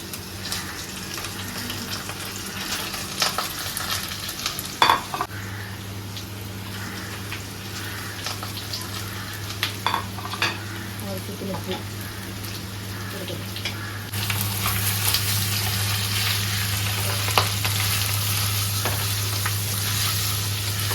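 Chopped ginger, green chillies and curry leaves sizzle steadily in hot oil for a carrot pickle, a continuous close crackle that grows a little louder toward the end, with faint stirring.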